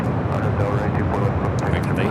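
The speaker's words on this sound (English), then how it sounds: "This is Delta Connection 4099 coming in from Reno on the E175." A Delta Connection Embraer E175 regional jet arriving at LAX makes a brief, steady roar of jet noise with a voice talking over it.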